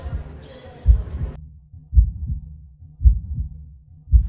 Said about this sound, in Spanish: escuchar los latidos de su corazón es como que me relaja un montón